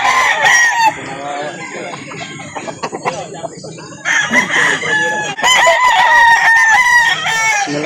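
Several roosters crow loudly and repeatedly at a cockfight and gamecock sale in Calauan, overlapping cock-a-doodle-doos up close with clucking and faint voices of the crowd beneath.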